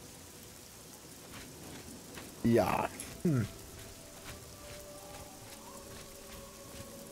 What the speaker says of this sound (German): weil es ja hier regnet